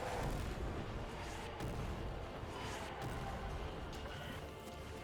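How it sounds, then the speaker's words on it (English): Bombing explosions from the strategy game Hearts of Iron IV (Millennium Dawn mod) rumble as a continuous dense barrage of low booms and crackle, steady and loud for the whole stretch. "They are bombing the shit out of us"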